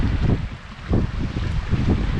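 Sailboat gliding over flat water in light wind near Little Cumbrae, with soft gusty wind buffeting the microphone and a low rushing wash of water in uneven pulses.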